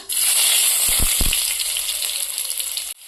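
Finely chopped garlic frying in hot oil in a pan for a dahi capsicum side dish, with a loud, steady, bright sizzle, a few low knocks partway through, and a sudden stop near the end.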